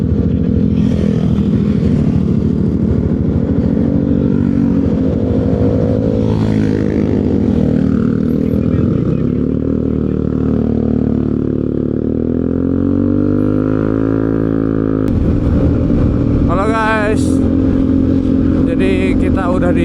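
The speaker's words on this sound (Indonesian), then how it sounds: "Awas mobil." Cars and motorcycles on a bumpy Indonesian road during a motorbike trip from Jogja to Jakarta, a loud constant engine drone with rising and falling revs and a vehicle passing close by near the end.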